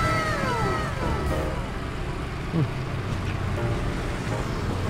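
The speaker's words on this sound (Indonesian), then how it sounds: "banyak bunyi motor, mobil lewat, truk segala macem" Nearby road traffic of motorbikes, cars and trucks rumbles continuously, with a vehicle engine revving and whining past early on over a low, steady roar.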